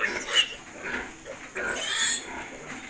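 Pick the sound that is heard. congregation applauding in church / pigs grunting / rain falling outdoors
pigs grunting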